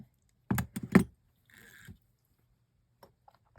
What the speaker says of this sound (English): So what I'm going to do is cut my base wires.